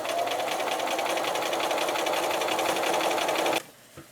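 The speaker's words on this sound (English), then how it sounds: "Next I'm going to top stitch and sew down the side seams of the pocket" Sewing machine top stitching the side seams of a fabric pocket for a crochet bag lining, a steady fast mechanical whir running continuously for about three and a half seconds before stopping abruptly.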